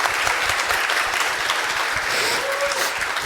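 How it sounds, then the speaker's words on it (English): A conference audience bursts into loud, sustained applause, dense steady clapping from a large room that continues evenly throughout with no pause. "let's give also at this moment these 2 guys and all the people involved in this a huge round of applause"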